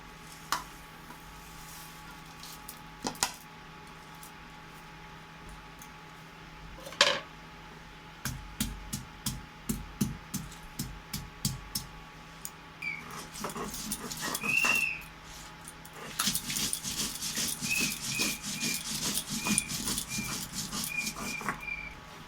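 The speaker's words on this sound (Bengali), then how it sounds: "আমি এখানে কিছু মশলা নিয়েছি, যেটা আমি বেটে নেব শিলের মধ্যে।" Cumin, coriander, black pepper, dried chilli and ginger are ground on a stone slab with a rhythmic series of close, scraping strokes that grow denser and louder toward the end.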